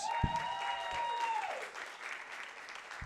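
Crowd applause at a youth rock band competition heat greets a brother duo, a soft, diffuse spatter of clapping from a distant audience beneath a fading sustained tone, with a thud near the start.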